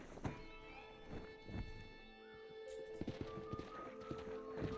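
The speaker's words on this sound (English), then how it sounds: "Tem um novo cavalo agora." Horse hooves clip-clopping in the video game Red Dead Redemption, a few irregular, soft thudding steps at close range over a quiet tonal game backdrop, with a brief high chime partway through.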